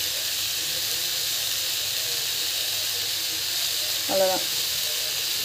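A cooking pan holding a healthy protein, iron and calcium dish releases a constant broadband steam hiss that runs steadily throughout, with a brief spoken word near the end.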